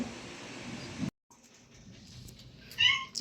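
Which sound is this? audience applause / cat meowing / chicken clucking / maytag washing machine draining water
cat meowing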